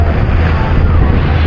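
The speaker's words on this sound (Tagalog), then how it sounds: "May lakas ng hangin." Strong wind roaring across the deck of a passenger ship from Batangas to Mindoro during a rainstorm, a loud, steady rushing buffet that batters the microphone without letup.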